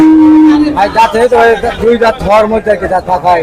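A cow at a cattle market gives a low, drawn-out moo at the start, followed by people talking nearby over background noise.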